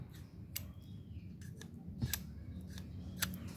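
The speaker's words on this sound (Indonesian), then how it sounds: "kondisinya klik juga masih fungsi normal ya Om ya tidak lontot sama sekali Om" An original Suzuki A100 motorcycle kick starter clicks, a few sharp, separate metallic ticks spaced irregularly over a low background hum, close up.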